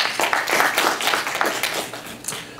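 A seminar audience at a Jeju forum gives brief, steady applause to welcome a professor, with many hands clapping together in a dense, close wash that fades slightly at the end.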